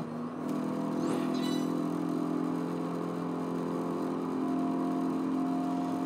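Mercedes AMG CLK DTM race car in Project Gotham Racing 4 on the Nurburgring, its engine droning loud and steady at high speed, holding a constant dense roar with a brief shift flicker near the start.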